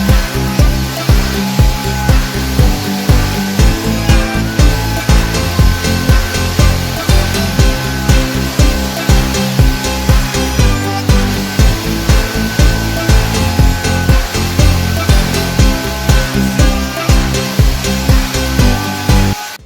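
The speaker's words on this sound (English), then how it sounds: "I'm gonna take the handle to the router table and round all the corners." A router table rounding the corners of a wooden dagger handle: a loud, continuous high motor whine with a regular rhythmic pulse as the wood is fed past the bit, running steadily throughout.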